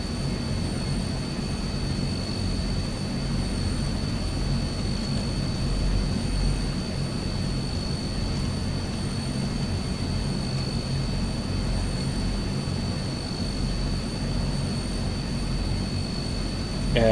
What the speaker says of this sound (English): So far it's only taken us 18 minutes to go from absolute 0 to already rolling onto the taxiway.